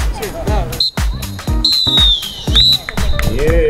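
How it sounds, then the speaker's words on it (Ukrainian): A referee's whistle sounds near the end of a football match, several long shrill blasts rising clearly above loud, excited commentary. "Лунає фінальний свисток."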